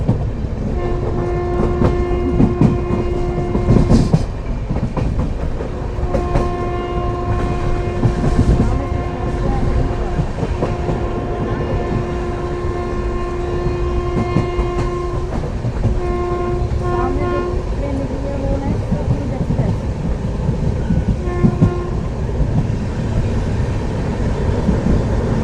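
At night the Satluj Express passes at a crossing near Ajitwal station, as heard from aboard the Amritsar–Ajmer Express: long, loud, sustained horn blasts over continuous rumbling wheel clatter.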